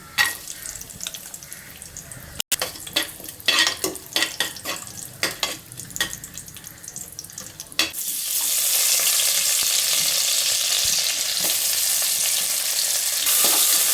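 Star anise, cinnamon, cloves and cashews fry in hot groundnut oil for a pulao, with stirring clatter at first, then a loud, steady sizzle that fills the second half.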